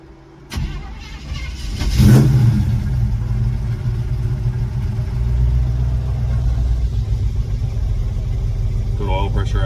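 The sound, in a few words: small block engine running in a 1975 Chevy LUV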